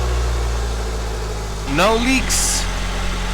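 A 2001 Honda Civic engine idles after an oil pan and gasket replacement, a steady low hum throughout, while someone talks briefly over it.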